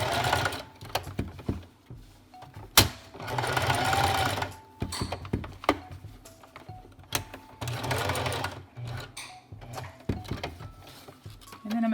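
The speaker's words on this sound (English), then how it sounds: "now I'm just gonna go around again with some zigzag, just as an extra." A sewing machine stitches zigzag around newborn baby pants, running in whirring bursts with short pauses, mechanical clicks and needle clatter, close and fairly loud.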